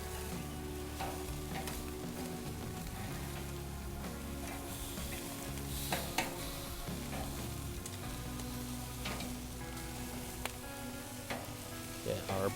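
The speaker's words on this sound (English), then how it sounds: "It's time to flip our meat so we get the other side cooked." Pork chops and bacon sizzling steadily on an outdoor grill, a dense, continuous crackle with occasional sharper pops and scrapes close by, and no talking.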